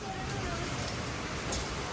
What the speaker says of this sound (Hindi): ओले गिर रहे भाई, टप गिरते रहे